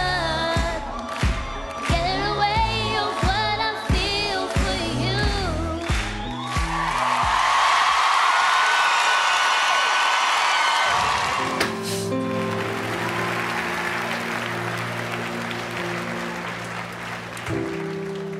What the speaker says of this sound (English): On their feet, a little more clapping.